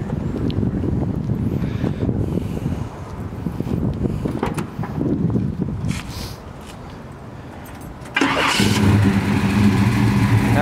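A 1971 Chevrolet Chevelle with a 454 V8 and electronic exhaust cutouts. Muffled handling noise and clatter lead to a sudden loud engine catch near the end, which settles into a deep, rough idle rumble.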